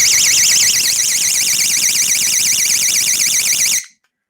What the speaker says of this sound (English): Matter of fact, she even got an alarm.